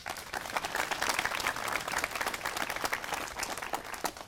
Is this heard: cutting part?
no